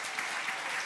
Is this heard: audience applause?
yes